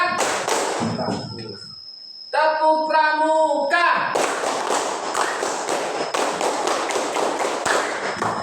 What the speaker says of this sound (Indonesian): Tepuk tunggal. Tepuk ganda. Tepuk pramuka.